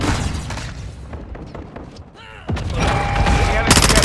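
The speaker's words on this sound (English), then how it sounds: "Hostile mortar strike in the area!" Hostile mortar strike in the Call of Duty: Modern Warfare II video game, heavy gunfire and rumbling blasts with one sharp, loud explosion midway and continued booming after it.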